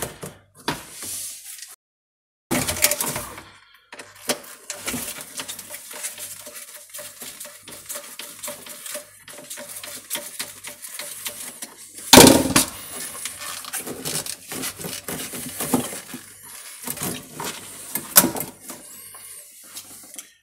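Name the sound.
dishwasher being pulled out from under the kitchen counter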